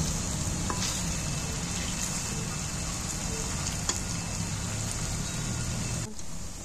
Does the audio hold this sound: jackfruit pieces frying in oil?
yes